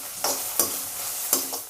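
Soft sizzling in a pan of tomato and curry leaves being sautéed with tamarind for a colocasia stir-fry, broken by a few distinct stirring scrapes of the spatula, close and moderately loud with no speech.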